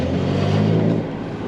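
A Porsche 911 Carrera engine revs hard and loud up close, with a steady, strong low drone that eases slightly near the end.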